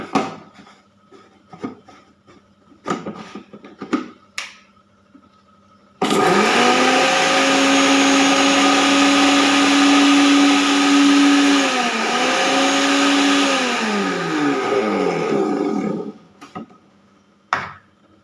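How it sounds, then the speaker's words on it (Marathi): A mixer grinder grinds a mixture fine in a loud, steady motor whine that runs for about ten seconds, dips briefly, then stops, with a few knocks and clatters before and after. "तर हे मिश्रण आपण बारीक करून घेऊ."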